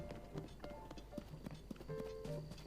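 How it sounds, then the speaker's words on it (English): Horse hooves clip-clop steadily in The Legend of Zelda: Tears of the Kingdom, a quiet rhythmic walking gait under soft background music. "He's got a horse."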